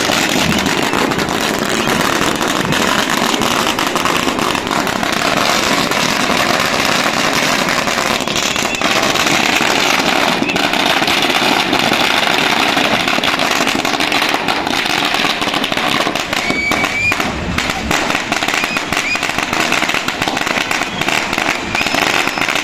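A dense, continuous barrage of crackling firecrackers explodes loudly and without pause, one long rattling string of bursts.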